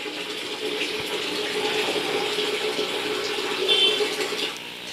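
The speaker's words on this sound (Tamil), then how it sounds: "நம்ம என்ன பண்ணணும்னா தண்ணியை ஓப்பன் பண்ணிவிட்டு, இப்போ தண்ணி உள்ளே வந்து 1 லிட்டர் ஓவர் ஹீட்டாக இருக்கும்." Water runs steadily from the tap of a small 1-litre instant electric water heater, a continuous close splashing hiss that holds even throughout and swells slightly near the end.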